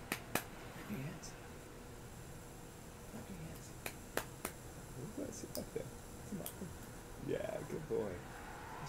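A small child at Bethany Beach claps a few times, isolated sharp claps spaced apart and fairly quiet, while soft adult voices talk nearby.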